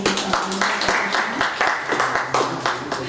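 Listeners at a Hindi poetry gathering in Faridabad clap after a recital, the applause fairly close and uneven, with individual hand claps standing out in a choppy rhythm.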